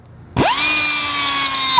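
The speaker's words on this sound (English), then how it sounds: "We'll just cut it with a grinder." An angle grinder whirs up suddenly and holds a loud, steady whine as it cuts through a car brake cable, close by and alone.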